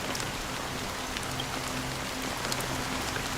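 Steady rainfall in Honkai: Star Rail, a continuous wash of drops pattering on surfaces at moderate level, with a faint low hum beneath and no voices.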